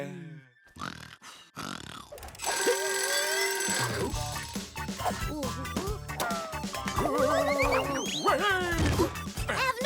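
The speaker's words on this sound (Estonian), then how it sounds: "Pole tulekahju, see oli mu äratus." A cartoon alarm clock goes off wildly in a Smurfs episode, with frantic ringing, crashing whacks and cartoon grunts and yelps piling up in a loud, chaotic burst of sound effects.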